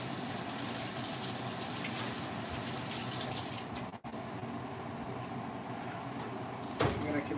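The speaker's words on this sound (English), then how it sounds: "I have to wash my hands real quick," Running water for a quick hand wash in a home kitchen while potato soup cooks, a steady hiss of tap water that cuts off briefly and then resumes.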